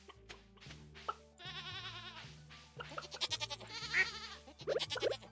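Cartoonish goats in the Stardew Valley farming video game bleat several times in quick, wavering cries over a plinking game melody, close and clear.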